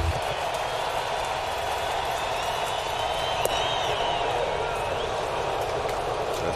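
A Thursday night baseball stadium crowd of 29,799 roars and claps steadily in the ninth inning with two strikes and two outs, a dense, continuous wash of cheering with a brief spike of noise partway through.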